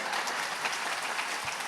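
Audience applause at a religious sermon, a dense, steady wash of clapping that holds evenly throughout without speech.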